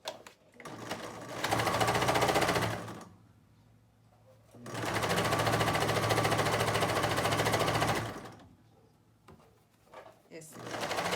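A sewing machine stitches a fabric lid lining for a bathroom set in two long, loud, steady bursts of rapid whirring, separated by quiet pauses, with a short burst starting again at the end.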